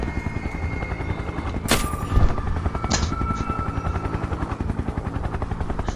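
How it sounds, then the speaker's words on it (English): In the horror game SCP: Containment Breach, a helicopter's rotor chops loudly and continuously. Sharp gunshots break through it a couple of times, with no voices. "Gunned down by a single shot from a helicopter."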